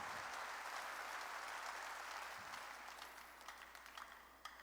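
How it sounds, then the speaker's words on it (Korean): A congregation at a Korean church worship service at Jesus-Centered Church claps in a dense, sustained burst of applause that fills the room, then gradually thins and fades toward the end, with no voices. "박수."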